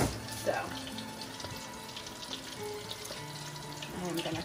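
Meatballs frying in a pan, a soft continuous sizzle with faint crackles and light spatter at a low, steady level, with some quieter tonal background sounds mixed in.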